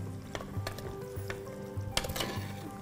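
Masala being stirred together with yogurt and onion in a mud pot for mutton masala, giving soft scraping and stirring strokes with a faint low sizzle and occasional clinks throughout, with no talk.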